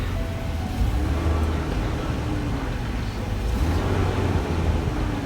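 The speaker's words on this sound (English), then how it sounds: "I'm giving it a little bit of gas to keep it running" Car engine running under light throttle at a salvage yard, a steady low drone with slight rises in pitch, continuous and fairly close.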